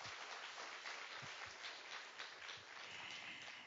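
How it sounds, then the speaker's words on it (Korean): A conference audience applauds steadily, a dense wash of many hands clapping that holds at an even level throughout, heard from a distance. "앞서서 또 기조 강연으로 문을 열어주신 원희룡 도지사님께도 다시 한번 큰 박수를 부탁드리겠습니다."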